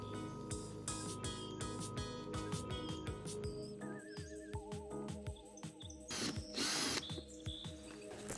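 A power drill bores drainage holes into the bottom of a plastic compost box, several short whirring bursts close by, with faint bird chirps in the background.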